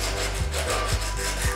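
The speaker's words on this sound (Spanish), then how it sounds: "con la ayuda de alguna lija van a retirar todo el telgopor o unicel que se puede haber pegado" Sandpaper rubs over polystyrene foam in a steady back-and-forth scratching, with regular strokes roughly every half second, close and moderately loud with no talking.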